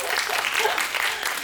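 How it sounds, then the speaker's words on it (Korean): An audience at a film festival screening Q&A applauds, a loud, dense burst of clapping heard up close and alone, with no talk over it. "박수 부탁드립니다"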